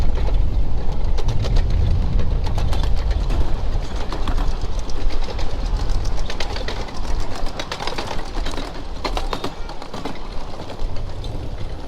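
Ride-on model train rolling through wooded grounds, a continuous close rumble with rhythmic clicking of wheels over rail joints, steady throughout, with faint birdsong in the background.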